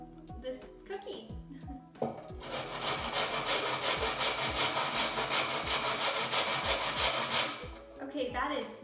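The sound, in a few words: grating a burnt cookie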